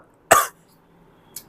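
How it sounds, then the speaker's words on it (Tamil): A single sharp cough close by, followed a second later by a short, fainter second cough or throat sound. "கொஞ்சம் இருமல்"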